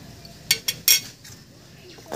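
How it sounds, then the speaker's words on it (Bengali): A spoon clinks against a bowl while semolina batter for steamed bhapa pitha is mixed with baking powder, giving three quick sharp taps close up and then a softer one in a quiet kitchen. "বেকিং পাউডার দিয়ে খুব ভালো করে মিশিয়ে নিয়েছি।"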